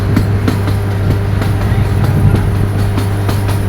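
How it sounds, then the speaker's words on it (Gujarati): An old diesel-engine train standing at a station, its engine idling with a steady low hum and faint rhythmic ticking throughout. "આ કોઈક સ્ટેશન પર ટ્રેન ઊભી રહી છે."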